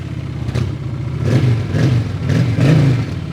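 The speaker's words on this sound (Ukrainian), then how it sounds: "Саме у Хонд дуже такий специфічний, прикольний звук вихлопа" Close exhaust of a Honda Shadow 750 Aero motorcycle with its original stock exhaust, revving in short repeated bursts, a deep throaty burble rising and falling with no talking.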